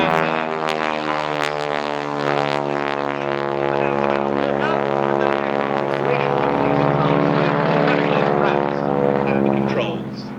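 Harvard propeller aircraft slowing after landing at an autumn air display at Duxford, a loud steady propeller drone with strong harmonic tones, heard under a commentator talking over a public address.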